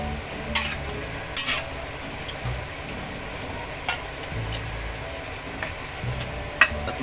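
Chicken liver and gizzards sizzle steadily in a pan as they are stirred, with soft scrapes and a few sharp utensil clinks rising above the constant frying hiss.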